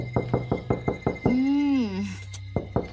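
Fist knocking on a wooden door at night in an audio drama: a steady run of firm, close knocks, a brief pause while a voice shouts, then more knocking.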